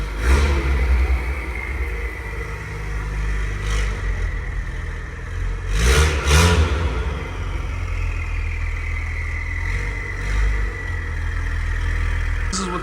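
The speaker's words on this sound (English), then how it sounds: "This is what the car sounds like at idle." A stage 2 Acura TLX Type S with catless downpipes idles close by, a loud, deep, steady rumble with a couple of brief swells in engine note midway.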